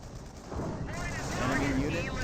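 Gunfire and artillery booms in a Company of Heroes World War II battle, rumbling continuous low blasts with rising whistling shell sounds, a commentator talking over it.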